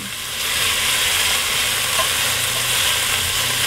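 Beef and added liquid bubbling in a pan, a loud, close, continuous sizzling hiss that holds steady throughout, with no voices.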